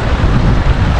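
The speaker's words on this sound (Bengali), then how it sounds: "কি হাওয়া বস।" Strong, cold wind buffets the microphone outdoors at Lal Jhamela Basti near the Bhutan border in the Dooars, a loud continuous low rumble with gusty swells.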